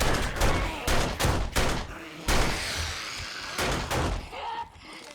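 Repeated bursts of gunfire in the zombie survival game 7 Days to Die, fired at a zombie during horde night, loud volleys coming in clusters with short pauses between them.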